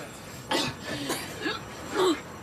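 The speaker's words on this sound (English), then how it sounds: "she was coughing really badly" A woman coughs several times in harsh, rough bursts, close to the microphone, separated by short pauses.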